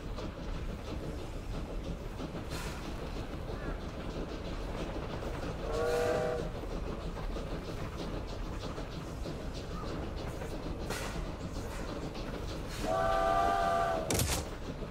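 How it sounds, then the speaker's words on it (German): A steam-era train sound effect in the strategy game Victoria 3: steady rolling clatter of rail cars runs throughout, with two loud whistle blasts about seven seconds apart. "Das Schicksal der Nation hängt davon ab, dass dieser Zug pünktlich ist."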